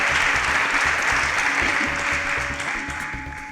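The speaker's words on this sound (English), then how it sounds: "A round of applause for Joseph from John Bosco" Studio audience applauding a quiz show contestant, a broad steady wash of clapping that slowly fades over a few seconds, with a faint low rhythmic music bed beneath.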